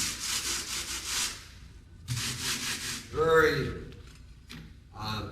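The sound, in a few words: scraping mortar base coat with a level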